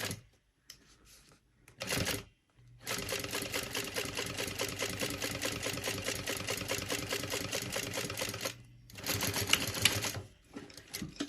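A sewing machine runs steadily for several seconds, top stitching along the top of a finished zipper on a travel project, with a rapid even needle rhythm, brief pauses before and after, and a short final burst.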